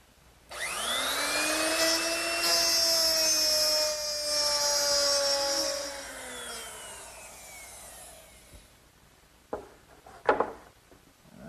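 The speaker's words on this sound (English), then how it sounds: "I'll plow out each groove using a 1/2-inch mortising bit" A router with a 1/2-inch mortising bit plowing a groove in wood for a writing desk, a loud, close, high-pitched motor whine that rises, holds for several seconds, then winds down, followed by a few sharp knocks.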